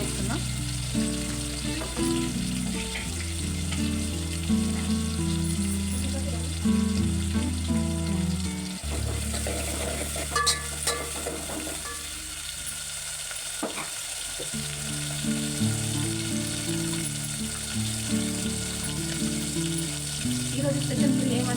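Green chillies and onions fry in hot oil in a pan for a Holi festival meal, giving a steady, close sizzle with stirring scrapes and some running water.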